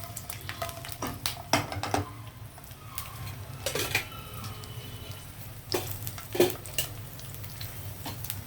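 Garlic frying in oil for a tempering, with gentle crackling and sizzle under intermittent clinks and scrapes of a spoon against the pan, fairly quiet and close.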